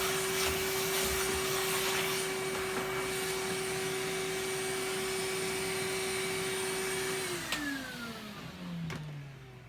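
An Electrolux The Professional vacuum cleaner runs with a steady, loud motor whine for several seconds, then the pitch drops as it spins down after being switched off.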